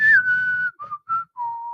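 A person whistles a short cowboy-style tune to imitate a tumbleweed rolling through the desert: a falling opening note, two brief chirps and a long held final note, close and clear.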